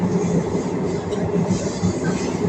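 A train running through an underground tunnel gives a steady, loud rumble with rail noise. It continues evenly with no talking.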